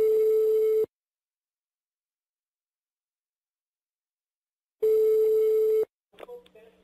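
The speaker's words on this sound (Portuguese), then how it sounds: "Ligando agora, eu quero ver o pipoco." A telephone line gives long steady tones separated by silence, like a ringback during a prank call, and a voice starts to answer at the end.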